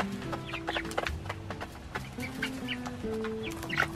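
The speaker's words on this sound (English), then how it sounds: "Ethan, do you even remember which chicken is which?" Farm chickens cluck in a busy, overlapping chorus, with short repeated calls from several birds scattered across the moment at close range.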